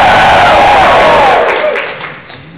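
A large crowd cheers and roars loudly at close range, holding a dense wall of whooping voices before fading out toward the end.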